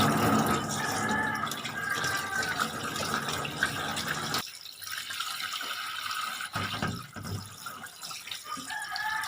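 Vegetables are rinsed under a running kitchen tap for cooking a meal: a steady splashing stream of water at first, then quieter dripping, handling and light knocks nearby.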